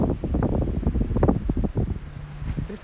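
Evening wind blows steadily around a mason bee house, a continuous low buffeting rumble and rustle close on the microphone with no clear talk.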